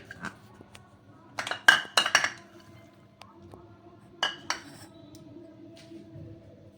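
A spoon clinks against a glass bowl while eggs, chopped carrot and spices are mixed for veg chicken pakoras, with sharp scattered taps clustered in bursts over a low steady background hum.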